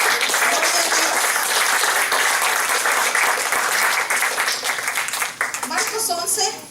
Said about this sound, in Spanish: Dale un aplauso a nuestro Señor.